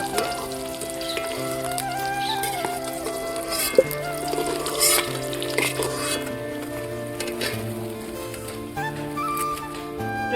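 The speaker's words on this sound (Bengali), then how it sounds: "ডিমগুলো সুন্দর ভাজা হয়ে গেছে, একদম লাল হয়ে গেছে।" Eggs frying in hot oil for an egg curry give a steady sizzle that runs through the whole stretch, partly masked by background music.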